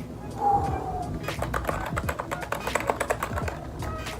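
Typing on a new Razeak 60% mechanical keyboard with blue switches: a quick run of sharp, clicky keystrokes close to the mic, irregular in rhythm, with a voice speaking underneath.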